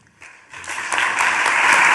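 Audience applause that builds quickly from near silence into dense, sustained clapping from a crowd, loud and continuous by the end.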